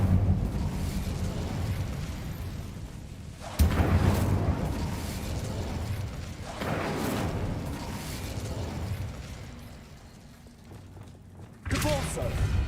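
Fiery spell blasts from the Incendio charm in the video game Hogwarts Legacy, a sudden loud burst followed by roaring crackle, recurring about three times with game music and a voice underneath.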